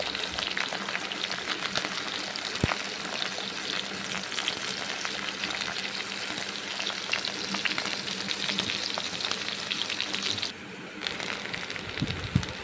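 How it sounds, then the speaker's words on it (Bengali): Eggplant fries in mustard oil in a wok with a loud, dense, steady sizzle and crackle. Faint stirring scrapes come through now and then, and the frying dips briefly near the end. No voices. "বেগুন কড়াইয়ে ছেড়ে দিচ্ছি, সর্ষের তেল"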